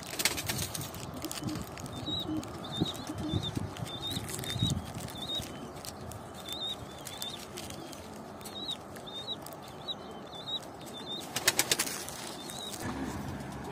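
Pigeons in a loft after landing, a run of quick repeated chirping calls over a busy background of shuffling, faint wing flaps and rustle, with a brief burst of clattering movement near the end.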